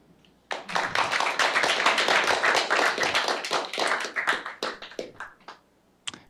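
An audience at a tech meetup talk breaks into applause, a dense burst of hand clapping that starts abruptly, holds for several seconds, then thins into scattered claps and fades, with one late clap at the end.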